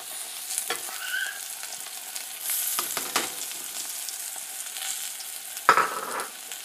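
Chopped tomatoes sauté in oil for a dried fish curry, with a soft background sizzle broken by several sharp scrapes and clanks of a spoon stirring the pan.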